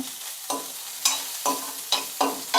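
Coconut and urad dal sautéed in a pan for mint coriander chutney, a low sizzle broken by about six evenly spaced scraping strokes of a spatula, close and clear with no voices.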